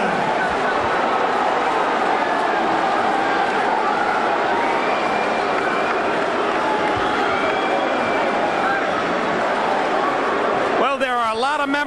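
A boxing crowd boos and jeers loudly after a split decision goes to Ivan Robinson over Arturo Gatti, a dense, steady roar of disapproval filling the arena from start to finish.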